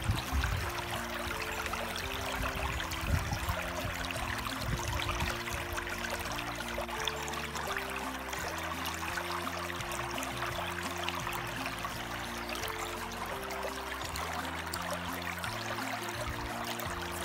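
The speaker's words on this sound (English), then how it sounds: "I am going to fill up this Sawyer water filtration system water bag at the Torch River here." River water at the Torch River trickles and pours steadily into a Sawyer filtration water bag, a continuous close, even wash of liquid with no talking.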